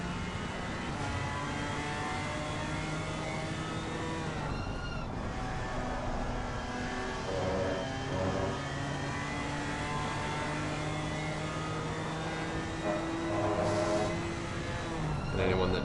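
Onboard engine of a BMW M4 GT4 race car in a racing video game at Laguna Seca, a steady, sustained drone with shifting revs throughout, with a commentator talking over it.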